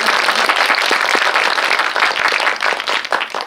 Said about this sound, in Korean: 박수 한번 일단 네, 부탁드릴게요.